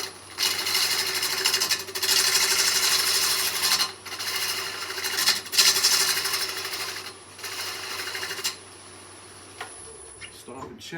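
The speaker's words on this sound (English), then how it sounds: "I'm just going to scrape the end of this" Wood lathe spinning a segmented bowl while a tool scrapes its end, a loud continuous whirring hiss in several long bursts with short pauses, then the machine winds down.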